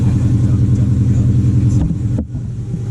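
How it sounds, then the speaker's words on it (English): A car with a 392 engine idles down, a steady close engine rumble that eases and dips in level near the end. "You can see it decrease as the car idles down"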